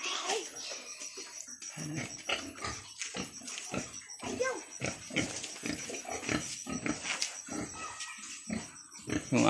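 Startled pigs on a farm give repeated grunts and short squeals, fairly close and busy throughout, mixed with scuffling and clattering, while people talk intermittently.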